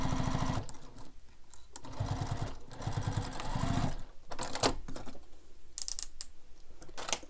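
Bursts of sewing machine top stitching across a bag, close by, come in several short runs separated by pauses, with clicks and handling noises between them.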